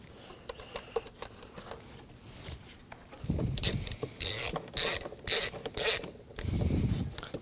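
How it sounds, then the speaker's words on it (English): A ratchet wrench tightens the battery terminal nut on a 2016–2022 Honda Pilot with short bursts of quick clicking and metal rubbing, close by and under no talk. "It's good to push down on the terminal as you tighten."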